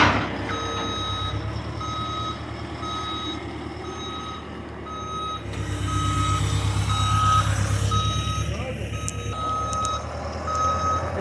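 Backup alarm of a large overhead boom lift fork truck on a metal barn construction site, steady evenly spaced beeps repeating throughout over a low diesel engine rumble that swells midway.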